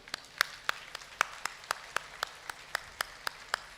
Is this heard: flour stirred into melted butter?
no